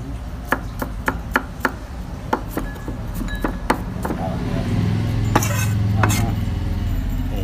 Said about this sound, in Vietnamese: Thì cái lá lốt mình cũng cắt luôn ha mọi người